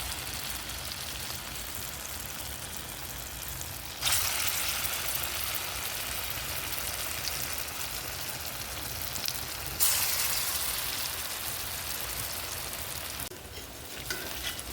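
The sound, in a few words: fritters frying in oil in a wok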